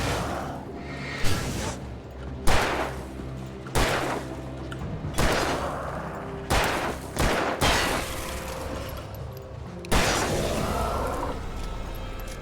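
Gunshots in Alan Wake Remastered, a handgun fired in several spaced bursts of about one to three loud, close shots each, with game music and ambience running underneath.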